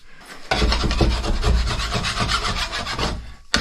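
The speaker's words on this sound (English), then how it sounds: "Give them a scrape, we can give them a sand" Steady, continuous rasping as a scraper and sanding work over filled drywall anchor holes in a wall, loud and close, with brisk back-and-forth strokes running almost without a break and no talking.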